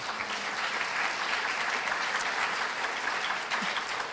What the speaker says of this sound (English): he'd be so excited to know you're all clapping for him